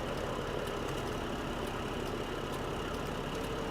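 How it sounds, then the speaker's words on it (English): A tractor engine runs steadily in Farming Simulator 2015, a constant low, beefy drone with no changes in pitch, heard quietly and without talk. "Oh, I just love the sound of this tractor."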